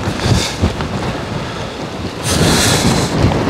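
Storm wind gusting at 40 mph against small backpacking tents, an MSR Elixir 2 and an X-Mid 2, roaring and buffeting loudly close to the microphone, swelling harder near the end with no speech.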